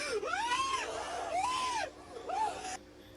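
Scream from a horror film scene: three rising-and-falling shrieking vocal cries, each about a second long, loud and close, the last one shorter, ending in quiet.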